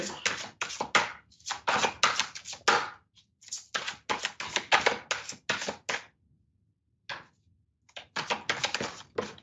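Rapid bursts of riffling tarot card shuffles, crisp and close, repeating in several runs separated by brief pauses.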